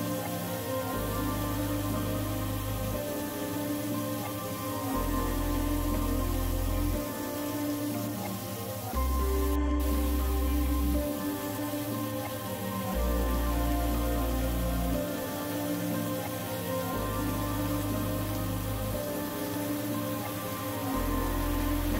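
Chicken shashlik frying in a pan as the pieces are turned: a dense, unbroken, rain-like sizzle that stays loud and even throughout, with a low pulsing hum running beneath it.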